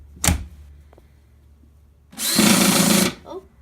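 A power screwdriver runs in one steady burst of about a second, preceded by a brief sharp knock, with the setting being work on a lawn vacuum.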